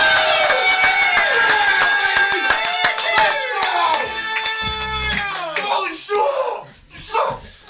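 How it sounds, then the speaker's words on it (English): An audience at Laugh Boston comedy club claps to welcome comedian Donnie Zollo onstage, brisk hand claps under a sustained musical tone, fading as the applause thins toward the end. "A big warm applause for Donnie Zollo"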